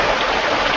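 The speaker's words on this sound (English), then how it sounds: "That's the sound of a geyser of crude oil spewing 20 feet high" A geyser of crude oil spews 20 feet high in Glendale, making a loud, steady, hissing rush much like heavy rain, continuous and unbroken throughout.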